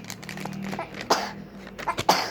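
An animal coughs twice, sharp harsh bursts about a second apart, close by and fairly quiet over low background noise.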